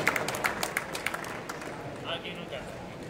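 Audience at a demoscene awards ceremony clapping, a burst of sharp hand claps at the start that thins into scattered applause, with a person talking over it.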